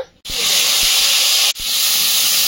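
Potatoes hit hot leftover paneer oil in a village kitchen wok, setting off a loud, steady sizzling hiss that cuts out briefly and then surges again with a second addition.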